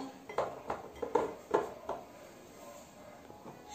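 A dessert layer set into a serving dish, with a handful of sharp clinks and knocks of the dish and utensils in quick succession, close and clear, then quieter handling.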